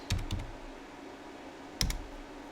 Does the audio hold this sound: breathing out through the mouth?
no